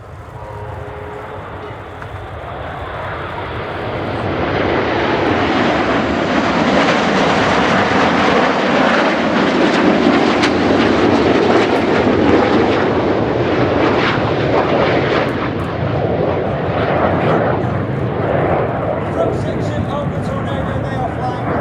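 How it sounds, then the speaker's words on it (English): Red Arrows jet formation flying display at RIAT 2024, a loud sustained roar of jet engines swelling as the team passes down the line, with a commentator's voice over it throughout. "Watch for the colour change as Red 1 brings the team down the line"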